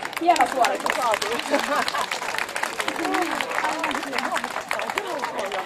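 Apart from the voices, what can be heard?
audience applause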